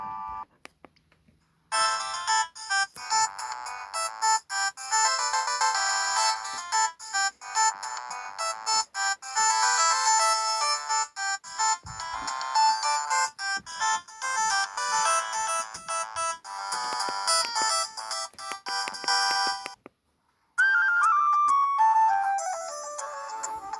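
A string of polyphonic ringtones originally from a Samsung GT-E1272, played back on a Newmind F15 flip phone. The melodies are loud and close, with brief silent gaps between tones and no talking.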